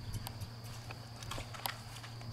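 Soft, steady hoof clops of a Merens horse walking on firm ground, somewhat distant and quiet over a low background hum.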